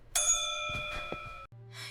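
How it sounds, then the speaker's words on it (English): A school bell gives a single bright ding that rings on with sustained tones for over a second before cutting off, followed by a softer second chime. "The bell is ringing."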